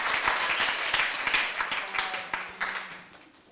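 A classroom applauds a student group, with close, dense clapping that fades toward the end while a voice talks over it.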